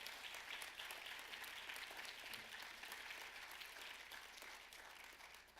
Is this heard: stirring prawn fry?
no